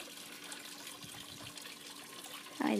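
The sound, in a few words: trickling water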